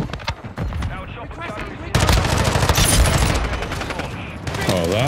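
Gunfire in the video game Call of Duty Modern Warfare 2: scattered shots give way to dense, sustained automatic fire and rumbling blasts, loud and continuous, with a voice briefly heard near the end.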